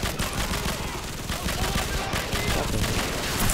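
Rapid bursts of automatic gunfire in Call of Duty 4, loud and continuous with sharp repeated cracks, spread through a busy in-game soundscape.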